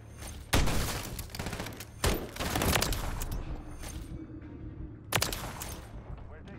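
Modern Warfare 3 multiplayer gunfire: sharp loud shots in short bursts separated by pauses, with quieter rattling action between them and a voice talking now and then.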